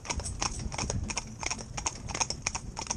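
Horse hooves clip-clop in a steady, rhythmic trot on a hard surface, close and clear, with a faint metallic jingle of harness on each step.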